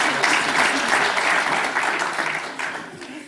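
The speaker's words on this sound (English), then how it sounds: "Give them a round of applause." Steady audience applause at a community week State of the Community event, dense clapping filling the room and tapering slightly toward the end.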